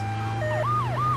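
An ambulance siren in the video game GTA 3 wails in rising and falling sweeps over a steady low engine hum, loud and close.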